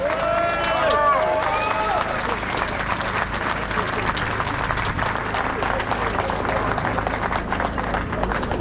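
A crowd at a Frexit political rally on Place des Pyramides in Paris applauds warmly, dense clapping and cheering filling the open air, with a brief shout or whistle near the start.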